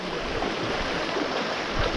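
A fast-flowing stream rushes at the Lingya Ghat waterfall, full from recent rain. The water makes a steady, close, broadband roar with no pauses and no voices.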